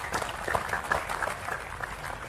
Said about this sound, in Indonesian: tepuk tangan enggak apa-apa ya